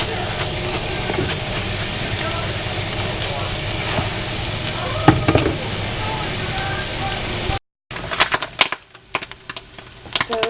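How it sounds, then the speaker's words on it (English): Black forest ham deli meat frying in a pan gives a steady, close sizzle with scattered crackles, cutting out briefly before returning with sharper pops. "here I'm just legit taking deli meat, frying it up. It's just black forest ham."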